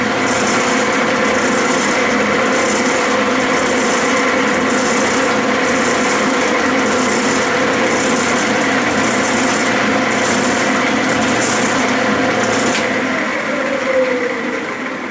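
A Clausing metal lathe cutting a left-hand thread, a steady loud mechanical whine and hum with faint regular pulsing throughout, slight change near the end as the cut finishes.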